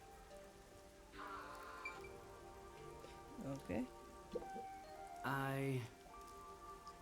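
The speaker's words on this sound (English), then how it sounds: "I'm starting to feel like the rain isn't so bad." Steady rain patters on surfaces in the video game Master Detective Archives: Rain Code, a continuous wash running the whole time beneath brief speech and a few tonal game sounds.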